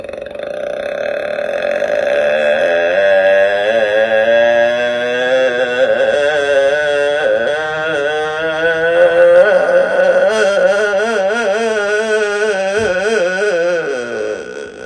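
A voice imitates a Yamaha RX 100 motorcycle, producing a sustained buzzing, wavering engine-like drone that rises and warbles for about fifteen seconds, loud and close.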